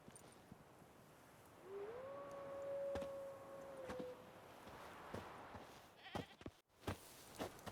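In The Witcher 3 video game, a goat tethered to a stake as bait gives a single long, drawn-out bleat, faint and outdoors, followed by scattered footsteps and small knocks.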